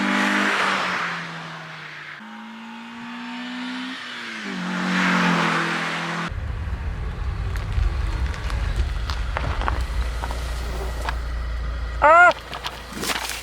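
A Peugeot 106 S16 engine revs and runs, rising and falling in pitch before settling into a rough, steady idle with a short sharp burst near the end. Faint voices come and go beneath it.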